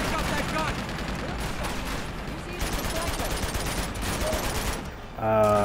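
Sustained machine gun fire in the Uncharted 2: Among Thieves video game, a dense continuous rattle of rapid shots filling the scene, ending abruptly in a short tonal game sound.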